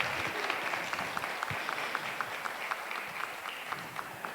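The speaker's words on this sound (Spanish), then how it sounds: "lo despedimos con un fuerte aplauso" Audience at a heritage volunteers' gathering applauds a departing speaker, a moderately distant, sustained round of clapping with individual claps standing out over a crowd wash.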